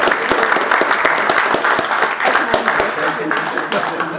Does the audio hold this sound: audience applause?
yes